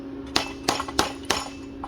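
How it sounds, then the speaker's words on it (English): Hammer striking a metal pipe fitting in a series of about five sharp, ringing clangs spaced unevenly, close and fairly quiet with a faint hum beneath. "So what we have to do is take a hammer."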